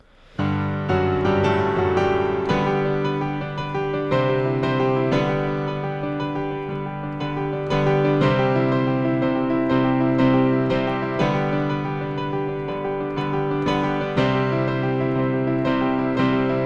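Solo piano plays the riff from a song, sustained chords and a repeating melodic figure ringing out close and full at an even volume, with no voices.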